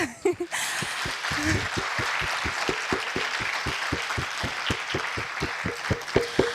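Audience at a law school alumni homecoming clapping in unison, a steady rhythmic series of evenly spaced claps after a brief ragged start, with voices mixed in.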